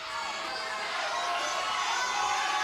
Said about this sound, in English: And the crowd going bananas.